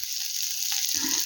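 Pointed gourd and potato pieces sizzle in a frying pan: a brief, constant hiss of hot oil heard up close.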